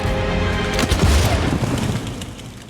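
A single loud gunshot from a pistol duel in a period TV drama, a sharp boom followed by a rumbling tail under dramatic scoring, with no speech.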